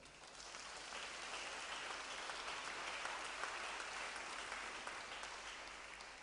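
A church congregation at a Sunday service applauding, a steady, even wash of many hands clapping that sounds distant and soft, sustained throughout without talk.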